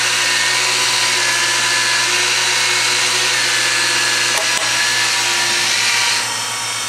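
A grinding wheel on a toolroom grind head works a part with a loud, steady, high whine and hiss, continuous and close, with a brief tick midway and a slight drop in level near the end.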